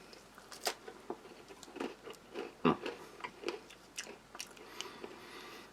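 Someone bites into a crispy bleached white flour cracker spread with thick apple jam, giving a string of close, sharp crunches followed by chewing.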